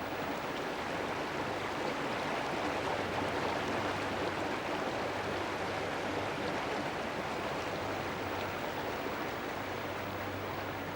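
A river flows steadily in a close, continuous wash of rushing water, with no voices or breaks in the sound.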